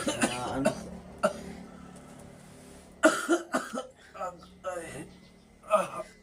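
A person coughs several times in short, separate bursts, some close and loud and some fainter, mixed with throat sounds between spoken words in a quiet room.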